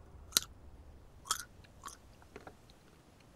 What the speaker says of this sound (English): I'm eating a baby carrot.